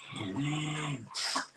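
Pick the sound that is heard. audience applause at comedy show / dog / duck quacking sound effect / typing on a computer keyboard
dog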